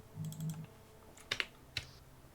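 Computer keyboard typing, a few faint sparse key clicks following a brief low hum, quiet and isolated.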